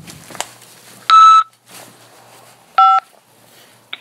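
Prison phone system keypad tones and beeps: two loud steady electronic tones, each about a third of a second long, separated by quieter line noise, with a brief click at the end.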